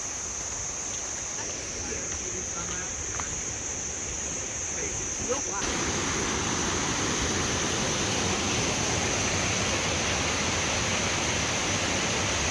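Mae Sa waterfall in Chiang Mai roars as a steady broadband rush, growing louder and fuller partway through as the falls come nearer, with a faint high whine running over it.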